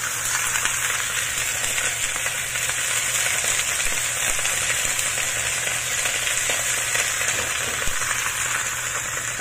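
Cabbage and carrot stir-fry over garlic and ginger in a hot pan, giving a dense, continuous sizzle with crackling spatters, loud and close, with no voices.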